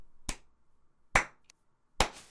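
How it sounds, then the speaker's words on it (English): Three sharp, isolated hand claps spaced about a second apart make a deliberate slow clap, loud and close against near silence. "Slow clap."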